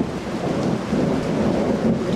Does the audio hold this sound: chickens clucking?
no